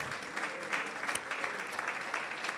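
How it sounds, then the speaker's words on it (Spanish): A church congregation applauds for God during a sermon, dense steady clapping from many hands sustained evenly throughout, moderately distant and without voices standing out. "Por favor, denle un aplauso al Señor."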